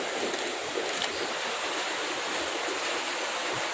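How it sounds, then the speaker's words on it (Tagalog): Flash floodwater rushes with a steady, loud roar, a dense continuous flow with no pauses and no voices. "kita niyo po, ang laki na po ng tubig"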